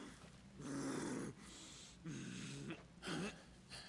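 A dog growls in the video game Final Fantasy XVI, three deep rumbling bursts of about half a second to a second each, close and fairly loud over a steady background of game sound.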